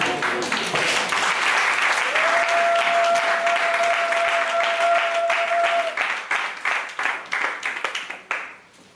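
A church congregation applauds during a worship service, a dense sustained burst of clapping that carries steadily for several seconds before thinning out and fading, with a held tone sounding over it.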